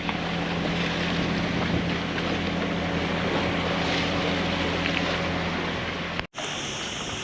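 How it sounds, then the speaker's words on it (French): Steady, loud wind blowing into a bay off Tagomago island, Ibiza, roaring across the microphone with a broad rumbling hiss, continuous throughout, cut by a brief dropout near the end. "il y a le vent qui rentre pile poil dans la baie"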